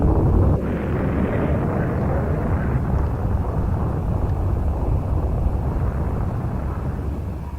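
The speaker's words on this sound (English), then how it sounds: "the entire planet is destroyed" The planet blowing up at the end of Super Metroid, heard as a loud, sustained low rumbling roar that stays heavy and steady throughout, with no voices.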